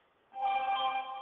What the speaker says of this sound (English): I apologize for my phone in the background.